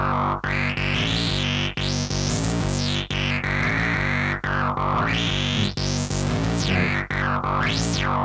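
A Kurzweil K2500 sample run through a filter in Kontakt plays as a loud, buzzy synth tone with held chords. Resonant filter sweeps rise and fall repeatedly, broken by brief rhythmic dropouts, with no voices.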